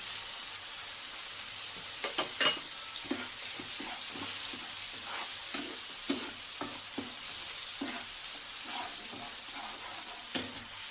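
Spice paste with salt and turmeric frying in a pan, a soft steady sizzle broken by repeated scraping stirs and clinks of the spoon, fairly quiet and close, no talking.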